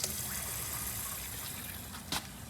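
Water rushes steadily into a 1980 Eljer Emblem toilet tank during refill, a constant close gushing trickle with a brief louder splash near the end.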